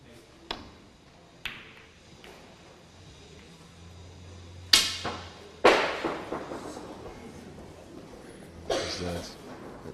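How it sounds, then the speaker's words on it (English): A snooker ball falls to the floor after a miscue during a women's snooker final, heard as a sharp, hard knock followed by a series of quick diminishing bounces at moderate distance, set among earlier faint clicks of balls. "Someone's miscued and the ball's ended up on the floor."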